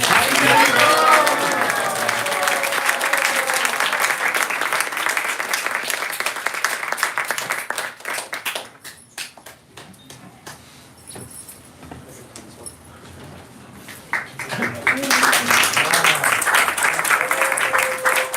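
Audience applause at an ISKCON 60th anniversary gathering after a play, clapping mixed with cheering and voices that thins out midway, then swells again toward the end.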